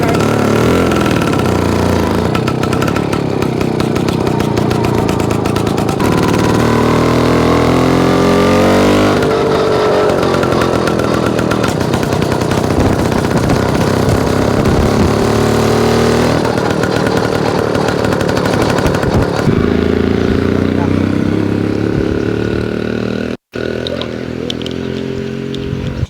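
A 1951 Turner By-Van motorcycle rides off in first gear, its small engine buzzing loud and steady with rising revs and gear changes as it pulls away, close throughout.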